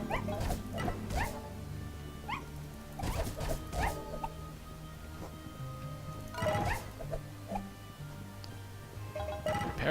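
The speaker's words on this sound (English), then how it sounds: "I do feel bad about the little pathetic little barking yelp thing they do." Small puppy-like monsters in the video game Spiral Knights let out several short, high barking yelps, scattered among game clatter and mechanical effects, with no talking.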